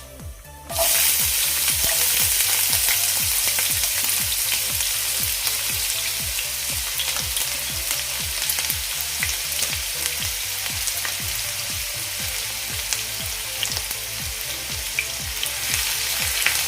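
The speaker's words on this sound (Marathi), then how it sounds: "कांदा हा राव गोल्डन ब्राऊन होईपर्यंत आपण परतून घेऊया" Onion frying in a pan toward golden brown, a loud steady sizzle that starts abruptly and holds, with a regular rhythmic scraping of stirring underneath, no speech.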